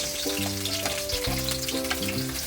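Onion sautéing for egg lugaw gives a steady close sizzle with no one speaking. Tonal music plays over it throughout.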